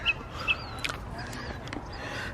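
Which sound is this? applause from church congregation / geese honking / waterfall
geese honking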